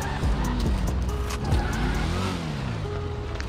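Car driving and skidding in the video game GTA V: a steady engine drone with tire screeches and swooping skid squeals running throughout, loud and close, with no talking.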